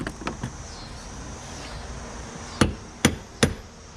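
Three sharp hammer blows ring out near the end after a few fainter taps, distinct metallic strikes over low background rumble, while replacing the flywheel and starter in a Glastron-Carlson CVX23 boat.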